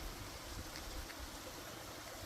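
Spring water flowing out from underneath a village church in the Pyrenees, a soft, continuous trickling wash heard faintly throughout with a low rumble beneath.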